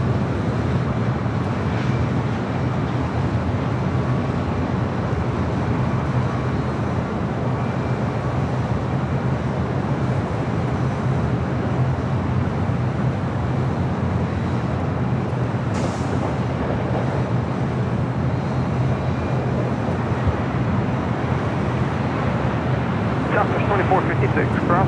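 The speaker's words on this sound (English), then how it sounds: "This is British Airways Flight 269 coming in from London Heathrow on the A380." A British Airways Airbus A380 arriving at LAX from London Heathrow, heard as a steady, loud broadband jet roar that fills the whole stretch without a break.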